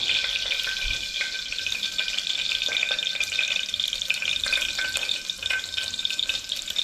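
Hot oil crackles and sputters in a pan while cooking chithranna, a steady dense sizzle with scattered sharp pops at moderate loudness and no talking.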